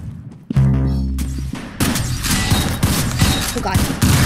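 Roblox Arsenal gunfire, a loud burst of rapid shots followed by a dense stretch of repeated firing and impacts, with game sound and voices mixed in.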